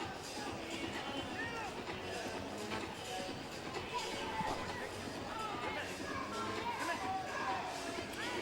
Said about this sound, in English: A lot of cheering from the background there.